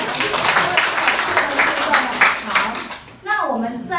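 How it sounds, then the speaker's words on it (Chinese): A room of seminar attendees gives a short round of hand clapping, a few seconds of brisk applause that cuts off before a voice starts talking. "对哦，太棒了，给自己掌声"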